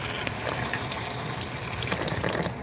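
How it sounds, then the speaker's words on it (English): Water gushing steadily through the pipes of a solar hot water system on a farm, a continuous close rushing flow with no talking. "You can hear it. You can hear the water going through."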